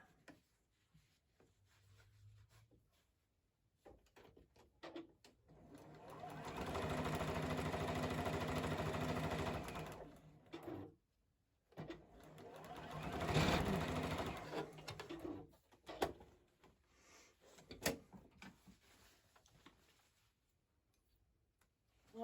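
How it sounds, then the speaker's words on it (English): A sewing machine stitches a gingham grid quilt row together, running in steady bursts with a mechanical whir and ticking, pausing between runs, close up with no talk. "This is our last stitch to sew this row together with."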